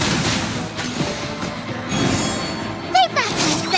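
A shooting barrage attack in the game Reverse: 1999 builds as a rapid fusillade of impacts and blasts, with a sharper crack near the end, dense and layered under game voice chatter.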